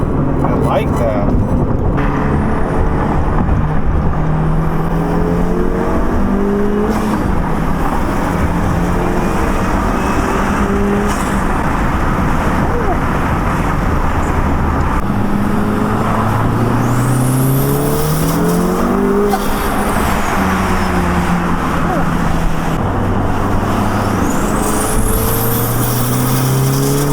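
Turbocharged 10th gen Honda Civic Si with a big turbo launching on a 2-step, loud continuous engine roar with repeated rising and falling revs and popping, recorded outdoors with wind noise throughout.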